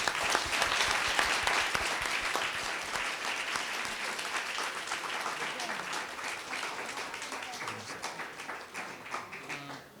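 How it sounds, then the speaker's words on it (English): A crowd applauds loudly, dense clapping that gradually thins and fades toward the end. "can we give them all a round of applause?"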